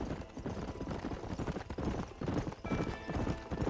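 A horse trots along in Red Dead Redemption, its hooves clip-clopping in a quick, even rhythm, loud and close, with faint ambient game sound underneath.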